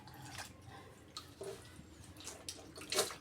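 Water splashes and trickles in soft, irregular bursts as fresh mint leaves are rinsed by hand in a kitchen, close and fairly quiet with no talk.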